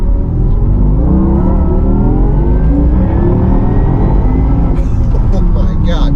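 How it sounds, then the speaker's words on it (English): A Porsche Taycan Turbo GT electric car accelerates hard, giving a loud, rising electric whir and road rumble heard from inside the cabin, with a brief sharp noise near the end. "you get right to hard throttle, and then you better be ready to stand on the brake pedal right after"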